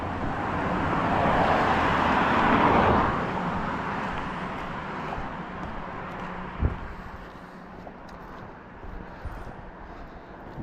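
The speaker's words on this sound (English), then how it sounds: "I hear a car coming behind and one ahead, I think." Cars pass on a rural road in Maine during a walk: a broad rushing swell of tyre and engine noise builds, peaks, then slowly fades, with soft wind and ambient hiss and no talking.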